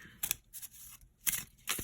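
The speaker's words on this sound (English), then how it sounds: "my chair keeps making a lot of noise." A noisy chair creaking under someone seated: four short, squeaky creaks in an uneven rhythm, close and clear with no talking.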